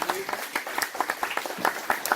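A crowd claps in a steady, lively burst of applause for a speaker at a commemorative event about Antonio Meléndrez, the claps close and crisp with faint voices underneath.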